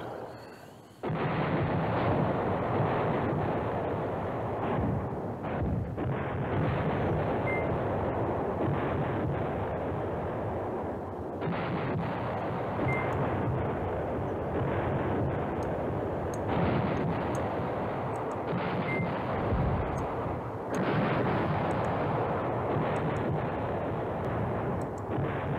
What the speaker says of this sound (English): let him bomb there for a minute